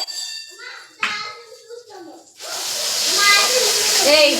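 After a brief stretch of someone talking, tadka spices hit hot oil in a home kitchen while a paneer gravy is cooked. A loud, steady hiss and crackle of sizzling swells up and holds to the end.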